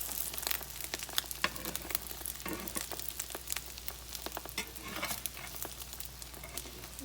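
Rice and eggs with garlic powder and onions fry in a pan, giving a soft, continuous crackle and sizzle with scattered pops, heard quietly and alone.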